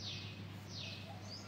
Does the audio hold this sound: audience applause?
no